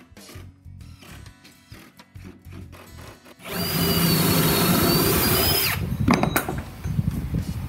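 A power drill drives pocket screws into wooden dividers, whirring loudly and steadily for a couple of seconds, then winding down, with knocks and handling noises of wood before and after.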